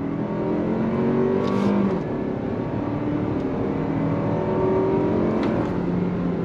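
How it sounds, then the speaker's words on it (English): A 2023 Toyota Highlander Turbo SUV with an 8-speed automatic accelerating from a roll in normal mode, heard as a steady, loud engine drone and road roar without talk. "We're gonna go on throttle in normal mode, and this time I'm gonna do it from a roll."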